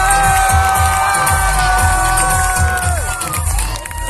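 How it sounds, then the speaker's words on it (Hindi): A crowd at an evening Pakistani community picnic event in a Jeddah park cheers, whoops and shouts in a loud, continuous roar, with a sustained tone and a rhythmic low thump underneath. "तुमसे मुझे चाहिए सिर्फ और सिर्फ रिस्पॉन्स, एनर्जी, तालियों की सूरत में और शोर की सूरत में।"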